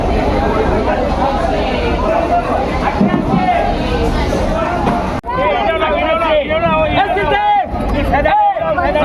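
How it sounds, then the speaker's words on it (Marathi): A dense morning crowd fills Mumbai's Bhaucha Dhakka wholesale fish market with steady babble and overlapping voices, while one nearby voice speaks clearly over the hubbub in the second half. "ही बघा सकाळची गर्दी केवढी असते इकडे"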